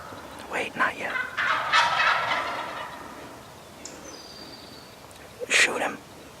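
Wild turkeys gobble during a youth turkey hunt in New York, with loud rattling gobbles at the start and another close burst near the end, separated by quieter stretches and a faint bird call.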